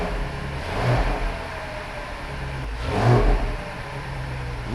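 A freshly tuned BMW X5M runs close by with a steady engine drone that swells twice into brief revs before settling back to idle.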